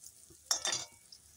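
Bora fritters frying in a pan, a short burst of crackling sizzle with a stirring or turning scrape, fairly quiet and close, with no talking.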